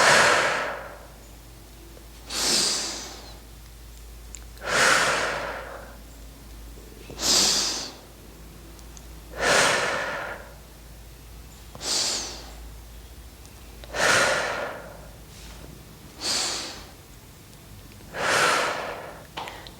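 Deep, slow breaths in a breathing exercise, eight long airy inhale-exhale swells at a steady rhythm of roughly one every two and a half seconds, close and fairly loud with no talking.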